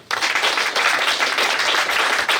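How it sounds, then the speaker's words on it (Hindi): Loud audience applause at a network marketing talk, dense continuous clapping starting abruptly and holding steady, close and full. "मैं चाहता हूँ जोरदार तालियां होनी चाहिए।"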